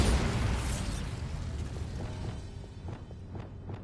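A Bombarda blasting spell goes off in Hogwarts Legacy, a loud broad explosive burst that rolls and fades over a few seconds, with faint clicks and footsteps toward the end and no talk.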